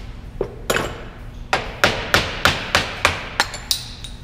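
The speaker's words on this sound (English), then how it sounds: "Just take a little chisel like this, put it on the back side, give it a few taps each side." A small chisel is tapped against the back side of a pressed-in race on an aluminum steering box housing: about nine sharp, ringing metallic taps, close and loud, coming in a fairly steady rhythm with brief gaps, and no voices.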